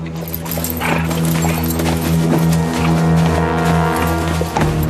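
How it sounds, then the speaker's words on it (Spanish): Horse hooves pound in a steady galloping clip-clop beneath a sustained, droning musical score in a historical drama about Charlemagne, loud and continuous throughout. "¡Mi caballo!"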